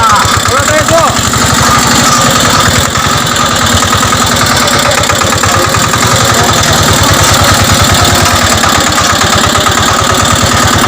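A new tractor's engine idles close by with a loud, steady, rhythmic chugging throb that runs without a break, while people talk over it.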